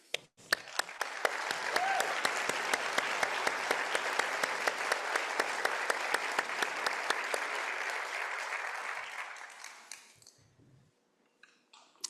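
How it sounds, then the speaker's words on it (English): Applause fills a hall as an award is presented to a prosecutor at a college convocation, with a few nearby sharp claps standing out from the dense crowd. It swells, holds steady, then fades out at the end. "Please join me in congratulating Prosecutor Ciccone with another round of applause."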